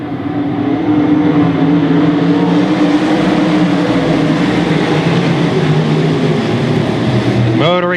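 Sprint cars roar off the start of a 20-lap feature race at the 2013 Sprint Car Spring Classic, a loud, sustained pack of engines droning steadily with a commentator's voice running over it.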